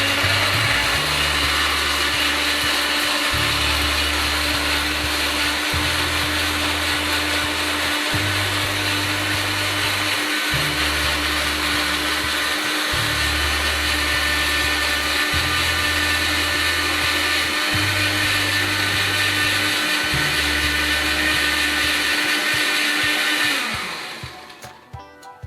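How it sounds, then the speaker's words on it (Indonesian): An electric blender grinds spice paste with about half a glass of water for braised Indonesian chicken. The motor roars loudly in a steady pulsing rhythm of roughly nine surges before it winds down and stops. "langkah selanjutnya kita blender atau kita haluskan ya bumbunya"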